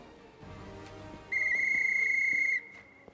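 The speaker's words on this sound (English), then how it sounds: "Pulling a whistle decorated with runes from his pocket, the dwarf brings it to his lips and produces a high-pitched trill" Rune-decorated whistle blown by a dwarf in a fantasy video game, a single high-pitched sustained trill lasting just over a second over quiet background music.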